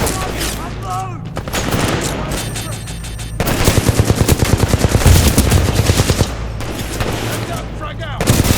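Sustained automatic gunfire in Titanfall 2 combat, with rapid, loud bursts that grow denser midway, overlapping explosions and shouted voices in the fight.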